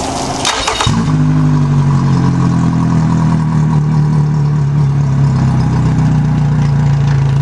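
A Yamaha 115hp outboard engine settles into a steady, loud idle after a brief burst at startup, its low hum holding constant and close with no talk over it.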